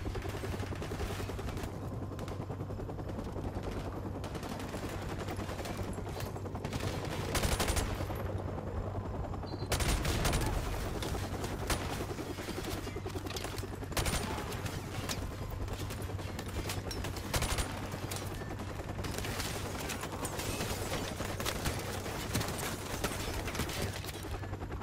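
Gunfire in Call of Duty Modern Warfare Remastered during an SAS mission behind enemy lines, dense sustained automatic fire with sharp cracks and heavier bursts layered throughout, steady and unbroken with no voices.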